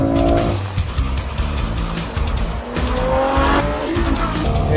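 A Ferrari oversteers on the Fiorano test track, its engine roaring under load while the tires squeal in long, wavering screeches, loud and close throughout.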